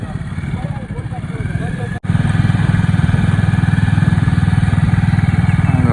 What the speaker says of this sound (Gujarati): ખૂબ જ નવું સંશોધન આપણે પલ્સરમાં ફિટ કર્યું છે ટ્રેક્ટર